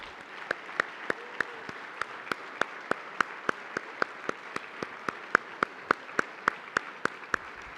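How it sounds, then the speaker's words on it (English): Steady, rhythmic clapping at a convention awards luncheon, distinct single claps evenly spaced about every third of a second over a soft crowd wash, fairly faint and distant. "Let's give a big round of applause to the men and women behind the scenes from Freeman."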